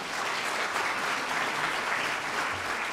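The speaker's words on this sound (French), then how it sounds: "c'est le moment d'applaudir si vous en avez envie" Dense, continuous applause from an audience filling a conference hall at a think-tank forum on public spending, a steady even wash of clapping at moderate loudness with no speech over it.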